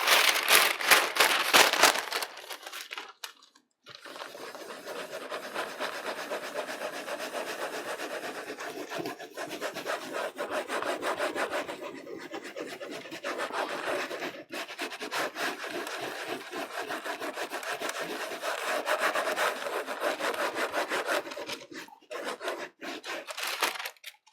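Wooden printmaking pieces are trimmed by hand: a steady, close rasping and rubbing of a blade or saw on wood that continues in rhythmic strokes with brief pauses.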